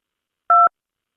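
A single short telephone keypad tone sounds once, clean and alone, as the 2 key is pressed in an automated phone menu for voting information.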